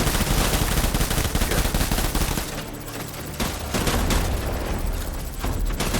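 Gunfire in the video game Death Stranding, rapid loud bursts of shots and booms in a dense fusillade that dips briefly mid-way before resuming, no talking.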